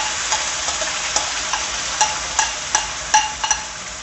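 Curry paste for a Malaysian chicken curry sizzles steadily in a hot pan, broken by several sharp scraping clicks as a utensil stirs it, fairly close and with no voices.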